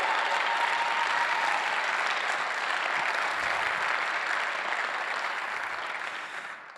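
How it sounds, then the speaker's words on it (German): Keynote audience claps in a dense, sustained burst of applause that holds steady and tapers slightly at the close, with no voices over it. "deswegen nochmal einen großen Applaus an Günther Faltin"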